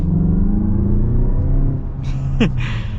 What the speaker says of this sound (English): Gotta love the turbo noise that it makes.